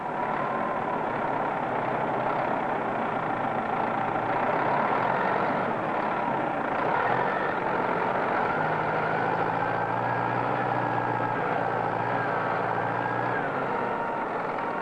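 A front-end loader engine runs at a steady, heavy drone while the machine feeds a hopper at a pit. The rumble stays constant with slight shifts in pitch, and no one speaks.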